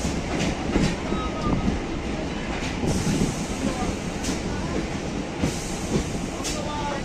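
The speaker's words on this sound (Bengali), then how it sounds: "ট্রেন ছেড়ে দিল পায়রাডাঙ্গা থেকে" A local train pulls away from Payradanga station on the Sealdah–Ranaghat line, its loud, continuous rumble and rhythmic wheel clatter running close by, with sharp clicks and squeaks cutting through.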